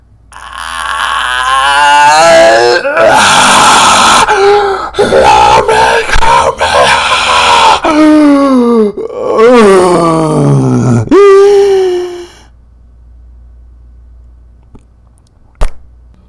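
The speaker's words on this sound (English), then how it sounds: "screams a blood-curdling scream as he fell to his death" A man's long, loud, strained scream as he falls to his death, a series of wavering wails and groans rising and dropping in pitch, then silence with a faint thud near the end.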